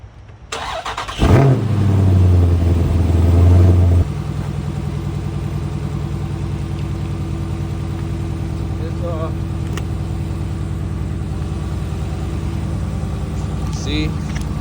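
A Dodge Charger Daytona 6.4L engine cranks and catches, roaring briefly before settling into a steady, smooth idle that runs on evenly, close by.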